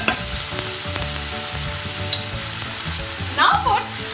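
Ginger garlic paste sizzles loudly in hot oil flavoured with hing, a dense crackling fry close by, broken by metal spoon clanks and scrapes as it is stirred, with a brief squeak near the end.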